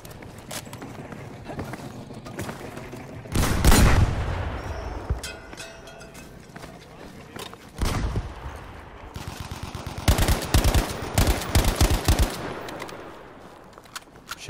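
Rifle gunfire in a battle-royale style video game comes in several bursts, the loudest around the middle and a rapid series near the end, with quieter game ambience between shots and no talk.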